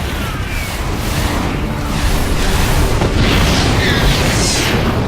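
A Medivac is shot down and explodes in StarCraft 2, a dense, sustained rumble of game explosions and bursts that stays loud throughout with no clear pause.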